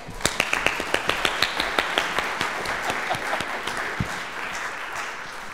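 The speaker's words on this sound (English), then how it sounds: "Applause, applause, applause." An audience applauds at a competition's semi-finals and finals, giving rapid overlapping claps that stay steady for several seconds, close and moderately loud, without speech.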